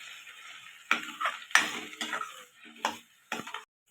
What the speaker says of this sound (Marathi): आता ही पेस्ट छान परतून घेऊ